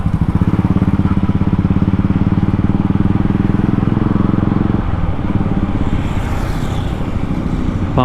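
Yamaha MT15 V2 motorcycle running close by with a loud, steady rapid engine throb. The engine eases to a lower, softer drone partway through.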